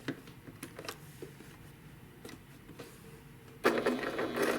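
A sewing machine stitches a quilt block seam in short bursts with clicking pauses between, then runs in a louder continuous whir at the end.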